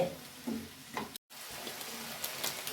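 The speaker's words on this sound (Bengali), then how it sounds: "আমি একসাথে দিয়েই এগুলো ভাজা ভাজা করছি" Peas and mixed vegetables fry together in a pan in a home kitchen, a faint, soft sizzle with a few light stirring scrapes and one brief dropout.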